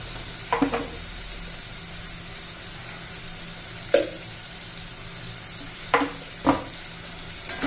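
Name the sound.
sautéing spiced rice with tomato in a pan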